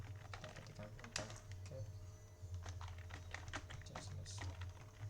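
Steady typing on a computer keyboard while entering server administration commands, quick irregular clicks close by and fairly soft, with a faint background hum.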